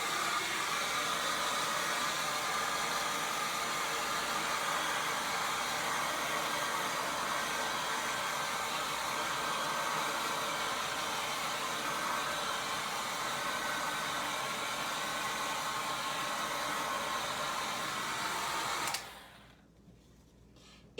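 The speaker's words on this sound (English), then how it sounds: "I am going to blow dry this before I turn it over." A hair dryer blows steadily and loudly on a coffee-stained transfer for about nineteen seconds, a constant close whoosh that cuts off abruptly near the end.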